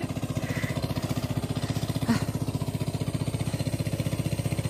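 A tractor engine running in a muddy farm field: a steady, close, mid-pitched throbbing putter with an even rapid pulse throughout, one brief knock near the middle, no voices.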